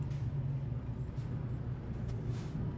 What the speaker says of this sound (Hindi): लेकिन वॉल्वो का ट्रक बहुत पावरफुल है, इसका पिकअप जो है वो स्कैनिया के ट्रक से कहीं ज़्यादा है, लेकिन ये आवाज़ बहुत करता है।